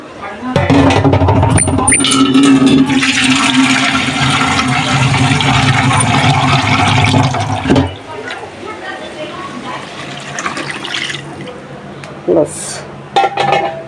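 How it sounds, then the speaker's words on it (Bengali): Water is poured into a pan of fish and taro curry, a loud steady rush lasting several seconds that then stops, leaving quieter kitchen clatter and brief clinks, with speech over it. "আর এখন মাছ দিয়ে জল দিয়ে দিই"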